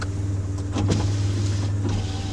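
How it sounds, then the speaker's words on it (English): The power windows of a 2010 Dodge Caravan whir as they move, a steady motor drone with a brief louder thump midway, alone and close. "window down, window up, and all the back ones are working too."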